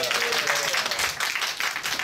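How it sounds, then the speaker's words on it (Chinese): Audience applause welcoming the first speaker at a g0v hackathon short-talk session: a steady wash of many hands clapping, moderately loud and continuous, with a voice faintly audible underneath. "那我们就掌声欢迎第一位讲者。"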